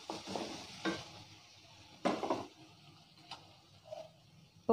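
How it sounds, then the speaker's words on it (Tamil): Tomatoes sautéing in oil with salt for vendakka puli kootu, heard as intermittent soft stirring scrapes and faint sizzling in short bursts, fairly quiet and without speech. "தக்காளி வதங்கிடும் உப்பு போட்டால் வேகமாக"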